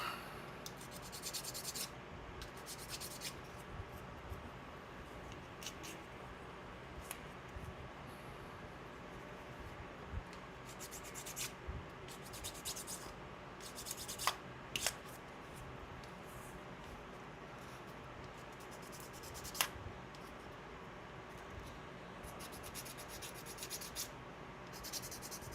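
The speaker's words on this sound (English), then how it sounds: "So now let's do a little bit of sanding." Repeated bursts of light scratchy rubbing, like sandpaper worked back and forth on a small plastic Warhammer model kit part, close and fairly quiet with short pauses between strokes.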